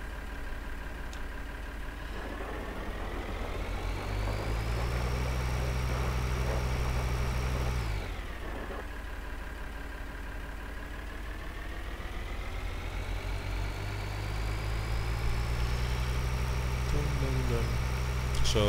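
A tractor engine in Farming Simulator 2013 drones steadily throughout, with its pitch climbing and falling as it revs, and a voice talking over it.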